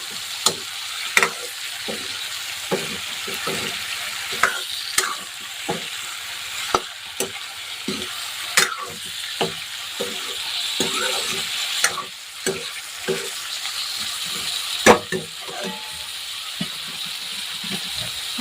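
Eggplant bhaji stirred while it fries, with steady sizzling under a run of sharp spoon clicks and scrapes against the pan at irregular intervals, close by.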